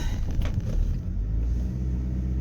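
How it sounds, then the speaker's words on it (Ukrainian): A car that runs on petrol and gas idles while its engine warms up. It makes a low, steady, close rumble with no revving and no voices. "Так, машина моя розігрівається."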